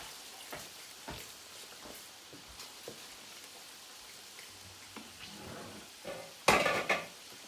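Food being stirred in a pan as seasoning is mixed into fried potato chips, with soft scattered utensil taps and scraping, ending in a louder burst of clatter near the end.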